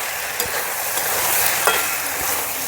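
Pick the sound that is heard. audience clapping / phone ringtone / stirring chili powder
stirring chili powder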